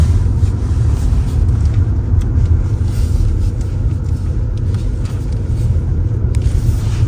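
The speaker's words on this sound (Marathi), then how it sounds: "छान मस्त चालवतोय कोमल गाडी" A car driven during a driving practice session, its engine a steady low rumble running loud and close throughout, with no talk.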